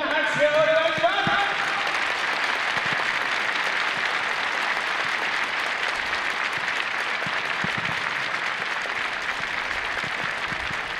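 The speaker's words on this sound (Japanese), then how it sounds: "皆様改めて大きな拍手をお願いします。" An audience at a player's retirement ceremony breaks into loud, sustained applause after a brief moment of voices, the dense clapping holding steady and close for the rest of the stretch.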